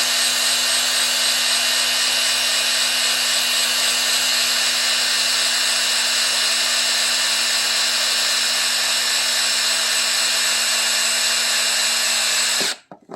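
A drill running on slow primes an engine oil pump during a motor build. It gives a loud, continuous whine that holds steady for about thirteen seconds before stopping abruptly.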